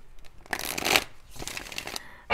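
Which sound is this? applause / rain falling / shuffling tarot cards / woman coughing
shuffling tarot cards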